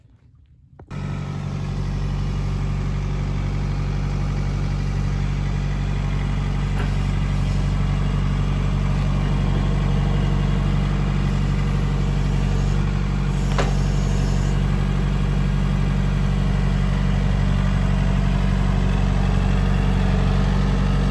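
A tractor engine starts abruptly and then idles steadily and loudly close by, a continuous low rumble with faint rattles that holds its level for the rest of the stretch.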